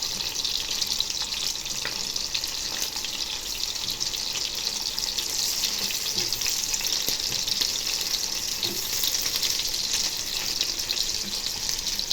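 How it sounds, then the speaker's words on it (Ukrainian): Continuous loud sizzling and crackling of meat patties made with mince and potato frying in a hot pan, steady throughout with no talking. "Наліпила котлеток, Смажемо щоб було на декілька днів."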